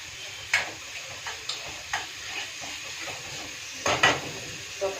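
Tomato chutney cooking in a pan: a faint, steady sizzle with a few soft clicks and scrapes from stirring, scattered irregularly.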